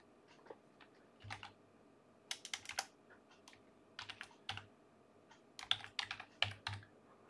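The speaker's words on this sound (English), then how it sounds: "And I would like to type my name in here. Say I want to type in" Someone types a name into a ticket checkout form on a computer keyboard: quiet, quick bursts of key clicks separated by brief pauses, with no talking.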